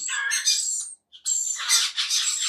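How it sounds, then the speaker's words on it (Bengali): A rainbow lorikeet lets out shrill, raspy squawks up close, two bursts separated by a brief silent gap. "লরিকেট পাখি কিন্তু অনেক সুন্দর কথা বলতে পারে"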